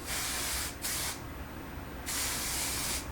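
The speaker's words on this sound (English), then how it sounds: "The way I like to use this is shake it up and then just spray" Two long bursts of aerosol spray hissing close up as curly hair styling product is sprayed, separated by a short pause, with no talking.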